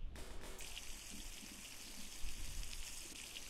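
Water pouring in as a container is filled in the video game The Long Drive, a continuous splashing trickle heard up close with no voices.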